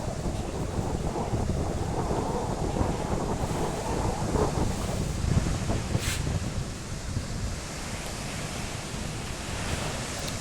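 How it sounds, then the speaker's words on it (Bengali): Sea waves roll and wash continuously on the beach at Puri, India, with a broad, steady roar, mixed with wind buffeting the microphone. "দেখো সমুদ্রের ঢেউ"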